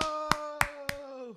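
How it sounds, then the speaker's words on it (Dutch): Three sharp, close hand claps evenly spaced about a third of a second apart, ringing over a sustained musical tone that fades out at the end. "Yay, applaus."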